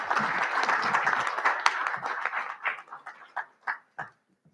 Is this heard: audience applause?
yes